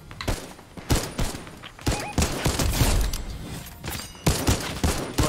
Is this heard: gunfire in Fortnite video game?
yes